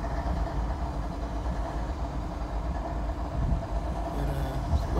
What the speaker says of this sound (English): BNSF, I'm sorry, intermodal train here, parked on the siding.